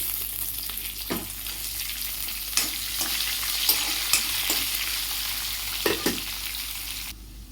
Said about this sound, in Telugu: ఒక మీడియం సైజు ఒక ఉల్లిపాయ కూడా వేసుకుని ఫ్రై చేసుకోవాలండి